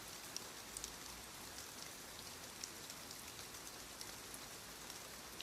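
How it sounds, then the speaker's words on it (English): Steady rain falls at night, a dense, even hiss with scattered raindrop ticks, soft and continuous with no voices. "It's a bad night for rain."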